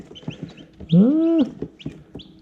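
Baby chicks from farm-raised eggs, with soft high peeps scattered throughout and one louder, drawn-out clucking call in the middle, close by.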